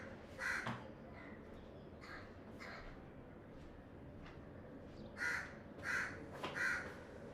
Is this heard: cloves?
no